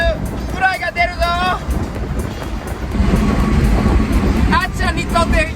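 A Subaru Sambar kei truck climbs a Texas highway, a steady rumble of engine and road noise that grows louder midway, with people talking over it.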